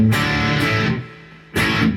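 An electric guitar played through a Boss Katana-50 Mk II amp with a mild distortion effect rings out in a sustained, gritty chord, then decays before a second strummed chord cuts in loudly.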